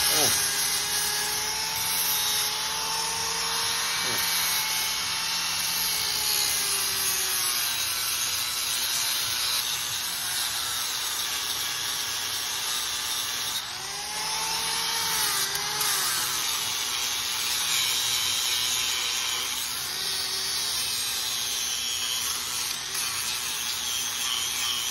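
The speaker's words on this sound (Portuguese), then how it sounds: "Você vai usar uma lixadeira com disco de esmerilar." A loud, steady high-pitched grinding whine of an angle grinder with a grinding disc cleaning a hoe blade runs continuously close to the microphone, with slight pitch shifts as the disc bears down on the surface.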